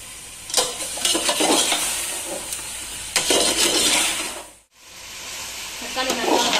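Chopped tomatoes sauté with softened onions in a pan for prawn biryani, a steady close sizzle with bursts of stirring scrapes, a brief silent gap, then frying resumes.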